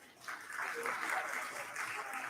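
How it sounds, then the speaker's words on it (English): A crowd applauds through the opening ceremony of a skills experts' meeting in Manila, a steady, moderately distant wash of clapping that holds evenly from start to finish with no talk over it. "A warm round of applause, please"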